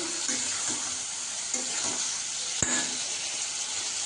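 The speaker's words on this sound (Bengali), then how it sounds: "এবার এইটাকে মশলাটা দিয়ে এবার আমি কষাতে থাকবো" Meat sautéing with spices in a home kitchen pan gives off a steady, close hiss and sizzle, with a few sharp clicks and taps from stirring.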